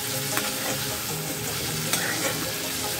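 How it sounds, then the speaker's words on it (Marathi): Prawns fry in hot oil while being stirred, giving a steady, close, unbroken sizzle with faint scraping from the stirring and no voices. "कोळंबी तेलामध्ये छान भाजून घ्यायचे आहे 5 मिनिट।"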